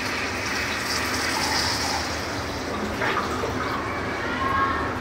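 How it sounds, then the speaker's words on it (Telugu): Water poured into a pan of roasting prawn curry gives a steady gushing, splashing pour that runs nearly continuously through the clip at close range with no talk over it. "ఒక 300 to 400 ml వాటర్ యాడ్ చేస్తాను."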